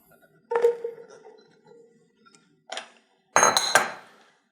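Peeled, diced eggplant drops into a cooking pot for risotto, giving a few short clattering clinks and thuds against the metal, with quieter stirring taps between them and no talking.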